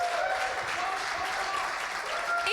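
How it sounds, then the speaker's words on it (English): Steady round of applause from an audience at a hackathon award show, a dense even wash of many hands clapping with no pause through the short stretch. "So give yourselves a huge round of applause."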